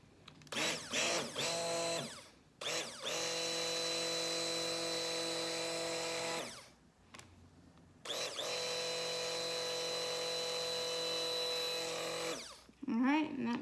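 A stick blender mixes a 35-ounce batch of soap batter with a steady, close, high motor whine in two long runs broken by short pauses and brief bursts.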